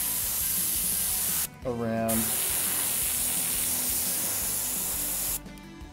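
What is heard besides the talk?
spray onto skin for tattoo stencil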